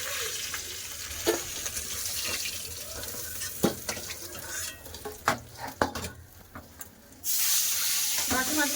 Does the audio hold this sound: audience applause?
no